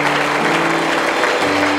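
A church congregation breaks into loud, sustained applause after a sermon, a dense wash of clapping hands throughout with no pause.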